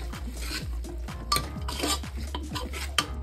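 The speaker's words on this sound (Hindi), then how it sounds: "चलाते हुए इस तरह से मिक्स कर लेंगे शिमला मिर्च और टमाटर को, दोनों को अच्छे से।" Capsicum and tomato being stirred with sambar masala in a pan, with a spoon scraping and clinking in a steady back-and-forth rhythm over a low hum, close and moderately loud.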